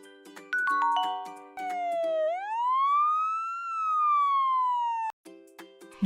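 A fire truck siren wails in one long rising and falling sweep, loud and close, with short chime-like tones just before and after it.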